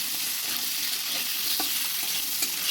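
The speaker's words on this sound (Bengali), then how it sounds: "ঢেঁড়সের জন্য আলু প্রথমে আমি আলুটাকে ভেজে নেব" Potato pieces sizzle steadily in hot oil seasoned with salt and turmeric in a pan, a constant close frying hiss with a few faint clinks of stirring and no talking.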